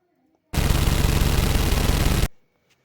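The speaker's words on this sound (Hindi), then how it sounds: "अंगारा की गन भी बरस पड़ी" Rapid automatic gunfire sound effect, a single dense burst of about two seconds, loud and close, cutting off abruptly into near silence.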